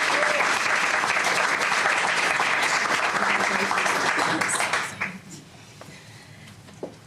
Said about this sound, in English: Please come to the podium and welcome her with a round of applause.